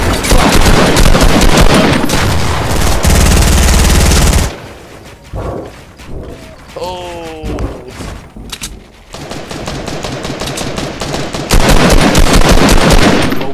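Rapid automatic gunfire in Fortnite, loud dense bursts at the start and end with a quieter gap in between holding scattered shots and a brief descending tonal effect.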